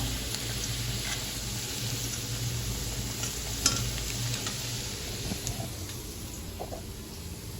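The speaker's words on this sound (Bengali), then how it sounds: "এইদিকে আরেকটা হচ্ছে আলু ভাজা" Potatoes fry in a pan with a steady, soft sizzle and the odd light scrape of a utensil.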